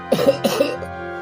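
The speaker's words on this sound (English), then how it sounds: "Harry collapsed, coughing." Two harsh coughs in quick succession, close and fairly loud, followed by a brief quieter rasp.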